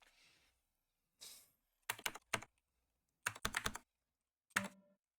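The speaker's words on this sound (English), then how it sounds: "she's very in the way of the keyboard and I need to type" Bursts of typing on a computer keyboard, several quick clusters of clicking keys with short pauses between, close and fairly quiet, with no voices.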